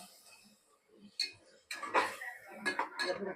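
A spoon clinks and scrapes in a pan as tomato paste and green chillies are stirred for egg biryani, producing scattered metallic taps and knocks, close and moderately quiet.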